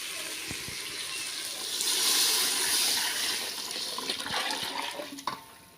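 Tamarind water mixed with masala pours in a continuous, swelling rush of liquid into a country crab gravy, then tapers off into a few drips and small splashes.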